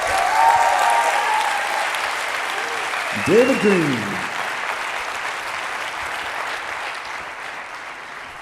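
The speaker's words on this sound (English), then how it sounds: "Let's give David a round of applause." Audience applause for David Greene at a real estate talk: steady clapping from a crowd lasts throughout, moderately loud, with a brief voice calling out partway through.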